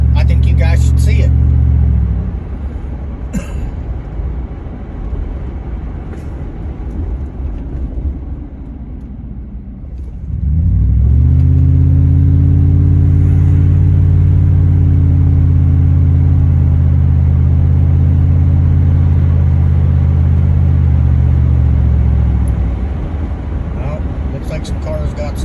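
A car drives through a flooded stretch of road, its engine rumbling loud and close with a steady low drone that eases midway and then swells again, churning along continuously.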